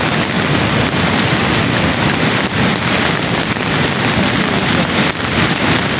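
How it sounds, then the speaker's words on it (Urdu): Heavy rain pours continuously in Neelum Valley, a dense, loud, unbroken hiss of falling water with no voices. "تین دن سے شدید بارش ہے"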